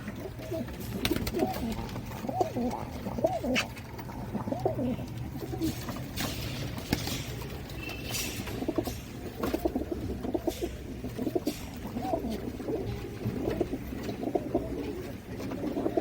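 Many pigeons, including blue Kamangar pairs, coo continuously in a low, throaty chorus, close and steady, with occasional fluttering and soft rustling throughout.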